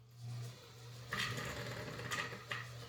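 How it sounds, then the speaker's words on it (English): A White model 265 sewing machine winds a bobbin, a steady low motor whir running throughout with a few brief mechanical ticks, close and moderately quiet. "so you can wind a bobbin without making the machine cycle"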